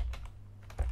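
A few quick keystrokes on a computer keyboard while a chmod command is entered, faint and close, with brief clicks separated by short pauses.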